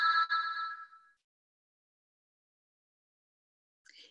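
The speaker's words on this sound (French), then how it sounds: "mon téléphone qui sonne derrière" A mobile phone rings from somewhere behind, a short melodic electronic ringtone burst that fades out, followed by silence and a brief faint return of the tone near the end.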